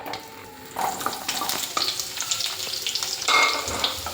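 Sliced onions dropped into hot coconut oil in a pan, a steady close sizzle that swells as they hit the oil, with a few stirring clinks and scrapes and no speech.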